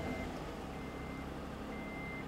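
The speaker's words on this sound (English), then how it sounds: "That's the original Honda Beep." A high electronic warning beep from a 1994 Honda NSX-R sounds in short tones at the start, middle and end, over a low idling engine hum.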